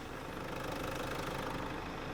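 A Hyundai Santa Fe engine runs at idle after a timing belt change, a faint, steady mechanical hum with a light ticking, knocking rhythm and an even level throughout.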